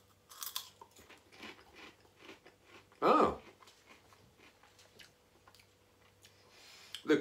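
Seabrook nacho cheese and jalapeño curly fries are crunched up close in one sharp, loud crunch, followed by quieter chewing, with a brief exclamation.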